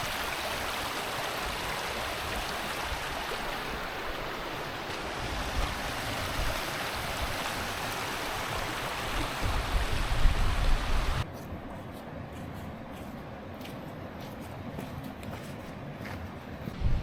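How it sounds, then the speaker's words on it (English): A small stream in the Peak District rushes beneath a little bridge, a steady broadband wash of flowing water, close and continuous, with wind buffeting the microphone and the flow quieter and thinner in the final stretch. "And the water flowing down there."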